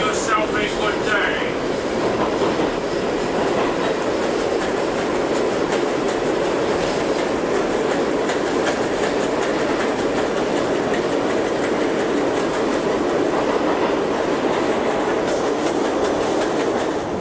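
A New York subway train running from Brooklyn to Manhattan rumbles loudly and steadily throughout, with rhythmic clickety-clack of wheels on rails and a faint high whine, heard from inside the car.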